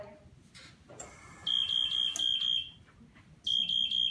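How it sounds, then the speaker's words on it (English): A heating unit's limit control turned down into the white zone sets off a loud, high-pitched electronic alarm beeping in two rapid bursts, the first lasting about a second and a half, then a pause, then a second burst. "if it's in the white, you will constantly hear an alarm"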